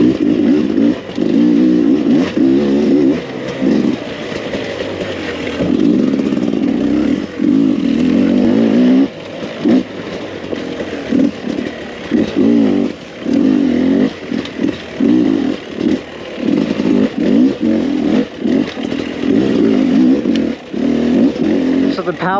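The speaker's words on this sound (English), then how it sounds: "the power delivery itself on this Beta 300 motor is one of the best, I think, for single track riding." Beta 300 RR two-stroke dirt bike engine while riding single track, loud and close with repeated revving bursts and throttle chops, a buzzy raspy tone rising and falling throughout, someone speaking over it at times.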